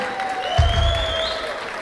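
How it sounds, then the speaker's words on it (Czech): Applause breaks out at a school graduation ball at an industrial secondary school in Tachov, a crowd clapping steadily and fairly loud under a sustained electronic tone and brief low thumps. "Velký potlesk pro Niky."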